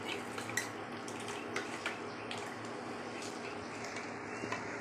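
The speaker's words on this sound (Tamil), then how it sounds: "கைவிடாமல் கிண்டிக்கிட்டே இருக்கணும்" Soft, steady scraping and light clinks of a spoon stirring thick multigrain porridge in a pot on the stove, quiet and close.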